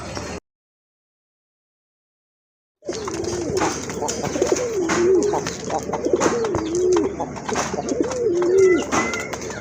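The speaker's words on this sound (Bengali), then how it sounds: "মাদ্রাজি কবুতর, মাদ্রাজি গোল্লা কবুতর" A pair of large, deep red Madrazi gola pigeons coo in repeated low, rounded calls after a brief silence, with a steady rustle and some voices in the background.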